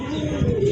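A pigeon, one of a pair of domestic pigeons kept for sale, gives a steady low cooing that runs through the whole moment, close and moderately loud, with no talking over it.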